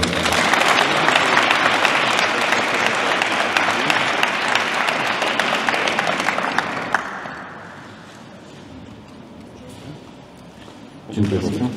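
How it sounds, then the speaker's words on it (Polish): Loud crowd applause fills a hall at the opening of an indoor county swimming pool in Żuromin, with dense steady clapping for about seven seconds before fading into quieter room noise, then a brief burst of clapping returns. "Zróbcie oklaski."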